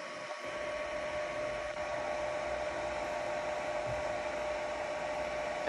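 Creality Ender 3 V2 3D printer laying down its first layer of PETG, a steady broadband whirr of fans and motors running continuously and fairly close, with no talk.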